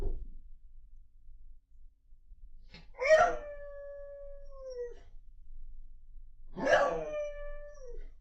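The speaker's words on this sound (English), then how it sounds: "This dog has an overly dramatic reaction when their toy falls off the couch." A dog lets out two long, drawn-out, mournful howls after its toy falls off the couch, each lasting about two seconds and separated by a short silence, close and clear with no talking.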